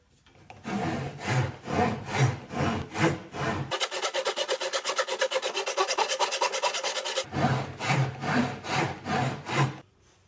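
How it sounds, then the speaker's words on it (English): Hand saw cutting through pallet wood for a garden bed, a long run of steady back-and-forth rasping strokes, faster and denser in the middle, loud and close with no talk. "I'm going to use this hand saw here just for a little bit more control"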